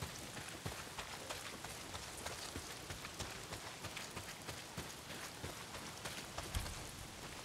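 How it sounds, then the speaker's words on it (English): Heavy rain falls in the open-world game Days Gone, a faint, continuous patter with scattered crackling drops spread across the whole stretch, with no one speaking. "Well, not if it's pissing down rain."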